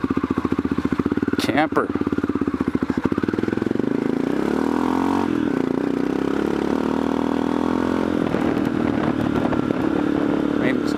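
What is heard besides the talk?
Aprilia Pegaso motorcycle engine running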